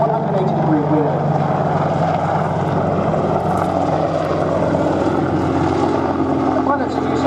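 An AgustaWestland Apache helicopter flies a display at the Duxford air show, its steady loud rotor and engine roar sustained throughout with constant low-frequency throb and no break.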